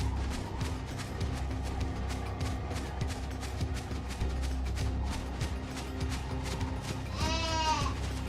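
Sheep in a video game bleat near the end, a wavering, rising cry over steady game music and rapid clicking footsteps or taps throughout.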